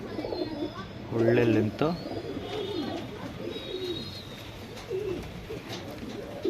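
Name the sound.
pigeons cooing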